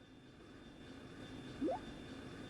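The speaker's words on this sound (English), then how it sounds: "I don't think I've heard this engine sound before." An airship engine hums low and steady as the craft comes in to land in the video game Trails in the Sky SC, with a short rising whine near the middle, faint and without talk.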